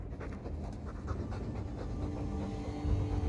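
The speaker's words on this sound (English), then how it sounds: "All that noisy dog breath, day in, day out." Rapid, close panting from a dog in the Dragon Age 2 video game, a continuous rhythmic huffing that swells slightly near the end, with no voices heard.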